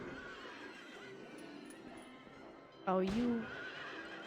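A merry-go-round horse whinnies once, short and sharp, in the video game Silent Hill 3, over quiet background game ambience as a person speaks briefly.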